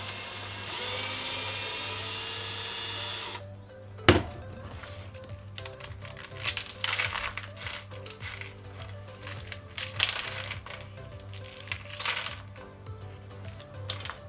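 A power drill whirs in short, repeated bursts while taking apart a plastic 5x5 octagonal barrel puzzle, with plastic clicks and clunks between runs after a steady hum at the start.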